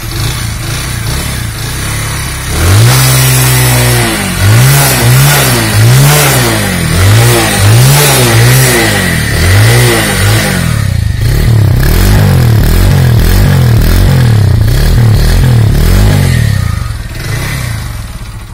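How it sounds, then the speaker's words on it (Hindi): A Mahindra Centuro NXT motorcycle engine, after 20,000 kilometres, revs repeatedly in loud, close bursts, then settles into a steady, rumbling idle with no talking. "आइए मैं आपको इस बाइक की आवाज़ सुनवा देता हूँ"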